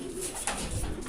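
A racing pigeon arriving from a 305 km derby race coos once, soft and close, in a brief low call over faint background noise.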